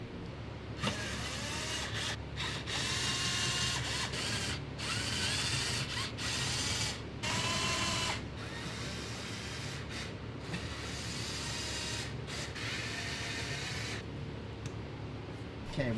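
Valve cover bolts coming off a BMW E9X M3 with its S65 V8, worked by a ratchet on a wobble extension: repeated close clicking bursts of the pawl, separated by short pauses, over a steady low background hum.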